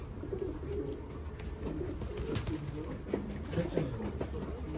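Kakite pigeons coo in soft, rolling low calls, several birds overlapping at moderate distance against background noise, with a voice talking over them.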